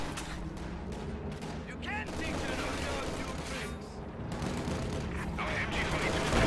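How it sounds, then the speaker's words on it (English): Small arms fire crackles in a World War II strategy game battle, with rapid overlapping rifle and machine-gun bursts and distant booms building in intensity while someone talks over it. "Taking small arms fire."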